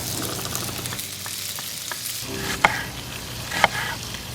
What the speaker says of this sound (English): We got all beef and the bacon fried up here